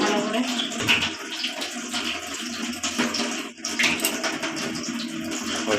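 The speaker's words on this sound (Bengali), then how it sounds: "তো এগুলো সব ধুয়ে নিই পরিষ্কার করে" Running tap water splashes steadily while ingredients for a street-style masala muri snack are rinsed clean by hand in a kitchen, a continuous broadband rush with small surges and one brief dip.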